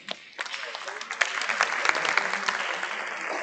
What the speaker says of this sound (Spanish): le vamos a dar un bienvenido y es un aplauso